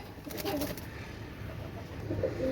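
Pakistani teddy pigeons coo softly in a couple of short, low, burbling calls over a faint background hum, fairly quiet and close.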